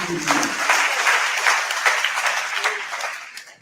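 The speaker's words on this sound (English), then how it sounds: "Please, another round of applause" An audience applauds for presidential candidate Sowore at an event in Kano State, a dense wash of clapping that stays loud and sustained before tapering slightly at the end.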